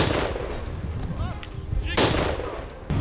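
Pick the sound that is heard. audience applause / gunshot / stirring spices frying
gunshot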